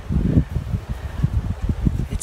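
Gusty wind buffets the microphone outdoors at a campsite beside a tent, low rumbling puffs arriving in uneven bursts over about two seconds.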